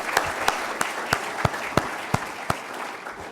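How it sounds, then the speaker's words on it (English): An audience at a workplace Diwali celebration applauds the performers, with distinct rhythmic claps standing out over a moderate, steady bed of crowd clapping. "Let's give another big round of applause to our wonderful performers."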